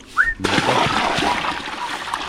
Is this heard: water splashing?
yes